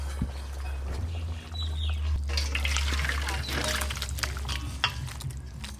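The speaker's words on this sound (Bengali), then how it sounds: "এবার ঢেলে নেব।" Cooked chicken and potato curry, made village-style, is poured out of the cooking pot with a soft, wet sliding sound over a steady low hum and background noise.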